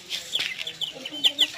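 Young Bhimavaram chicks about 65 to 80 days old, a brood of around eight, clucking and peeping in short, scattered high calls nearby over a faint background.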